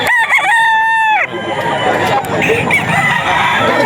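A rooster brought by a chicken seller in Bocaue, Bulacan crows once, loud and close, with the long drawn-out call breaking off sharply. A noisy crowd of voices then carries on underneath.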